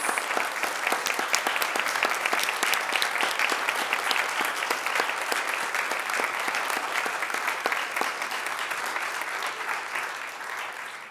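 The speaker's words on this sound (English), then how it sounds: "if we could please give these wonderful volunteers a round of applause" An audience at a city community services commission meeting applauds volunteers with sustained, dense clapping that stays loud for about eleven seconds and tapers slightly toward the end.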